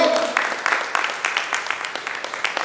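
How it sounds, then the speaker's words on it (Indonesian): Church congregation clapping during a Sunday worship service, a loose rhythmic patter of hands with uneven accents, moderately loud in a reverberant hall. "Tepuk tangan untuk Tuhan, yuk."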